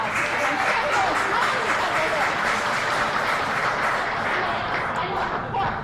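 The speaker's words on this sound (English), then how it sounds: "give him a big round of applause." A crowd at a championship grand finale event gives loud, sustained applause with some chatter mixed in, holding steady and easing slightly near the end.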